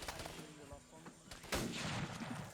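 Gunfire in a tactical shooter set in Indochina: several sharp reports, one loud close shot near the middle, scattered rounds and echoes under low background noise.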